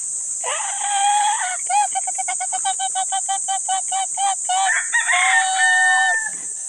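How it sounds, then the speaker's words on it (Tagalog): A chicken crows loudly up close, then breaks into a rapid run of rhythmic clucks before crowing again, all over a constant high background hiss. "Yung manok ko mga kamaster."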